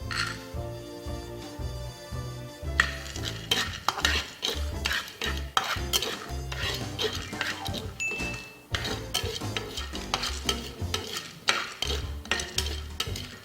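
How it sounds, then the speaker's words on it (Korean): Peanuts dry-roasting in a pan for a broccoli peanut-sauce dish are stirred steadily, a dense run of close scraping rattles and light clinks that continues without speech. "땅콩은 꼭 마른 팬에 볶아주세요."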